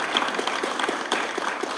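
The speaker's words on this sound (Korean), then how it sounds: "여러분 축하의 박수 한번 부탁드립니다" An audience at a science and technology entrepreneurship camp gives congratulatory applause, a brief burst of moderately loud, even clapping.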